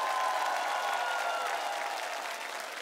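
A studio audience at a televised Russian singing-contest show applauds in a dense, sustained wave of clapping that fades slightly toward the end, heard close and loud.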